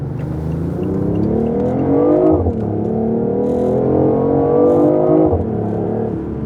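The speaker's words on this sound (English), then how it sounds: "Let's do another acceleration right here." A BMW i8 accelerating hard, its piped-in engine sound rising loud and steady in pitch, with two brief dips at gear shifts before it climbs again.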